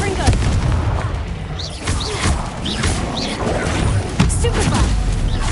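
Confringo spell explosion in the Hogwarts Legacy video game, a dense, loud stretch of booming blasts and crashes mixed with combat effects and brief shouts.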